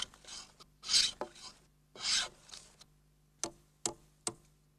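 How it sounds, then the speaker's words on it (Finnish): A jack plane smooths wooden floor planks in rough strokes, two long rasping passes followed by several sharp, evenly spaced knocks, close and clear in a quiet room. "Pienet epätasaisuudet poistetaan viimeistelyssä härkähöylällä."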